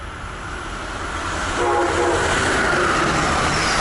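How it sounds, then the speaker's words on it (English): An Amtrak ACS-64 electric locomotive speeds past a station platform, blowing its horn in a long, loud blast over a broad rushing roar that swells as the train draws near. "Amtrak engineers must blow the horn to warn crew members on the platform."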